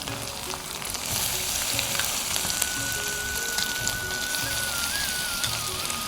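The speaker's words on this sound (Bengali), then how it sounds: "মশলা থেকে খুব ভালো করে তেল রিলিজ হয়ে গেছে" Spice masala for an atta breakfast snack frying in oil after the oil has separated, a steady close sizzle with fine rain-like crackling and occasional stirring, no talk.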